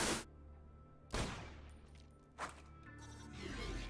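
Shotgun blasts in Borderlands 2, three loud, sharp booms spaced about a second apart, each trailing off into quiet ringing between shots, with no talking.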